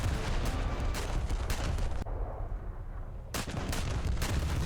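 Naval guns of the USS Alaska CB-1 battlecruiser fire in War Thunder, sending a dense, booming barrage close and loud. The firing drops into a brief lull before the heavy rumbling shots resume.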